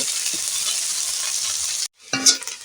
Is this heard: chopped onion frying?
yes